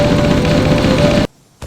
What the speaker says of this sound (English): the Halo 3 onward assault rifle, the one that would always disappoint me